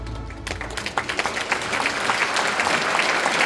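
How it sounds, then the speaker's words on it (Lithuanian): Hearty applause from an awards ceremony audience honoring nominees, starting after a brief low rumble and building into a steady, dense wash of many hands clapping. "Dėkojame išties nuoširdžiais, gausiais aplodismentais kiekvienam nominantui ir nominantai"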